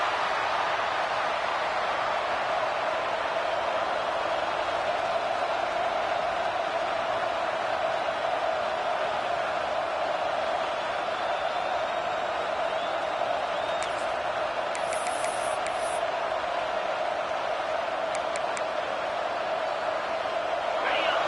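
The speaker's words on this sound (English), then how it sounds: "This crowd, full throat, splitting the eardrums" A football stadium crowd roars steadily and loudly at a college game against Texas, a dense, unbroken wall of cheering noise throughout.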